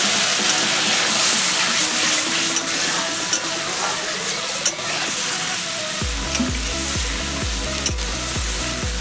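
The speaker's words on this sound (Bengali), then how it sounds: "এবার আমি একটু জল দিয়ে দেবো, খুব বেশি জল দেব না।" Bengali rui posto, a fish curry with poppy seed, sizzles and fries steadily in a pan, a loud hiss with scraping stirs, then a low bubbling simmer takes over as water goes in.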